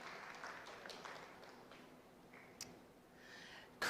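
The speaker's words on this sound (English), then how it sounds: "Ooh, nice clapping." Light audience clapping at a school award ceremony, a brief scatter of claps that fades quickly, faint and sparse, ending in a louder knock.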